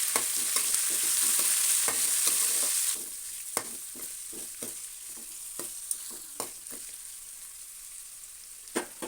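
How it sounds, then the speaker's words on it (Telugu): Finely chopped onion and two green chilies frying in a pan for a tomato and amaranth-leaf curry, a loud sizzle for the first few seconds, then a quieter hiss broken by repeated sharp spoon scrapes. "అవి వేగాక సన్నగా తరిగిన ఒక చిన్న ఉల్లిగడ్డ, ఒక 2 పచ్చిమిర్చి వేసుకొని ఈ విధంగా మంచిగా కలుపుకోవాలి"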